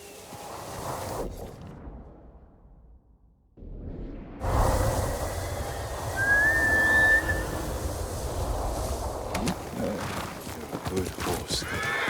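A horse whinnies in the video game Ghost of Tsushima Director's Cut amid rushing, swooshing noise and steady clip-clopping hooves, close and fairly loud, with a brief quiet gap early on.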